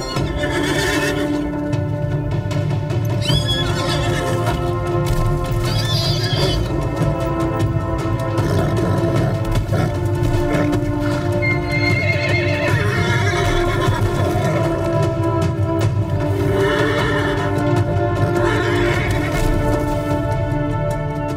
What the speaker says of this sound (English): One charges in to mate. The stallion won't stand for the bachelor uprising.